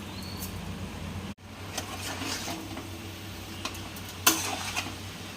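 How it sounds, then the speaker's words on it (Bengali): Spiced jackfruit and prawn curry being stirred and fried in a pan, a steady low sizzle with soft scraping stir strokes, a brief dropout near the start and a sharper clatter toward the end, no voices. "এটাকে ভালোভাবে মিশিয়ে নিতে হবে আর কিছুক্ষণের জন্য এটা ভালোভাবে নেড়ে নিতে হবে"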